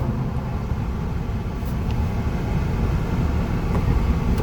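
A 2019 Chevrolet Equinox LT idles at a traffic light with a low, even engine rumble and soft road noise, steady throughout and with no one speaking.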